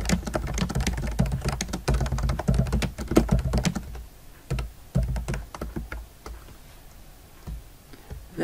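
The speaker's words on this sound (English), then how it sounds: "First, I'll type my new comment in the report field." A comment is typed on a computer keyboard as rapid, close key clicks in a dense flurry, thinning to scattered taps and a few firmer strikes toward the end, with no voices.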